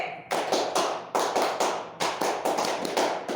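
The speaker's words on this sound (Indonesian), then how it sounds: "Memiliki yang pimpin nih, tepuk HW." A group claps a rhythmic chant at a Hizbul Wathan scouting gathering. Crisp, close bursts of hand claps fall in a patterned sequence of quick groupings, fairly loud, with no talking over them.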